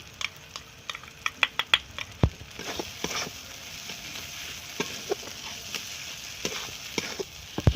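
Masala of cumin and coriander powder with chili pickle being fried and stirred in a pan for a crab curry, a low sizzle under scattered clicks and scrapes of a spoon against the pan.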